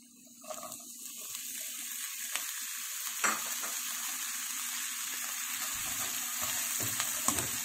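Potatoes sautéing with garlic in a pan for a corned beef and vegetable soup, giving a steady, close sizzle with occasional stirring scrapes and clinks throughout.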